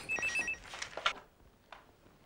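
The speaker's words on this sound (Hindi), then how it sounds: "मीतू, मीतू तेरा फोन देखना" A telephone rings indoors in a domestic scene from a Hindi TV crime drama, with a short warbling electronic ring near the start followed by a second brief burst, then quiet room tone.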